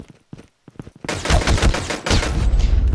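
A sentry turret in a zombie-survival video game opens fire in a dense, sustained burst of rapid gunfire after a few sparse clicks and pops, loud and continuous to the end.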